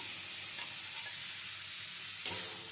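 Bombay duck fish being stir-fried in spice masala, a steady loud sizzle with scraping stirs and one sharper clatter near the end.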